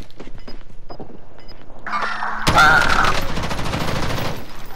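Gunfire from a shooter video game opens after quiet ticks and a short tone, turning into a loud close burst of rapid shots that rings on to the end.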